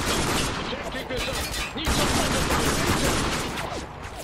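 Rapid gunfire rattles in the video game Spec Ops: The Line, dense overlapping bursts of shots and impacts continuing loudly throughout, with a sharp break in the middle.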